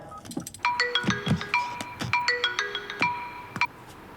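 A phone ringtone chimes in a quick repeating electronic melody of bright tones, moderately loud and close, played during an outgoing call.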